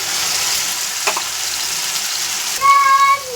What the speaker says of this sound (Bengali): এখানে কিন্তু আলু ভালো করে ফ্রাই হয়ে গেছে